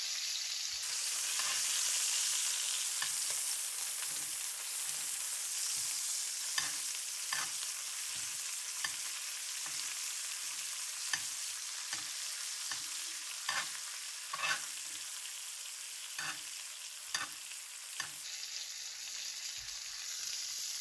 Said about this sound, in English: Give the butter a minute to melt and then start to baste the steak.